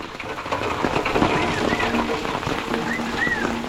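Steady rain falls on a dense forest in the Konkan, a constant hiss with scattered drops and some faint bird chirps, while people talk over it now and then.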